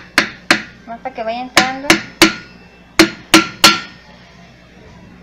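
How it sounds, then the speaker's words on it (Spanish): About nine light, sharp hammer taps strike a board pressed against an orange juicer part, spaced irregularly and close up, with someone speaking between some of the blows. "Ahora se le da unos golpecitos con una tabla y un martillo."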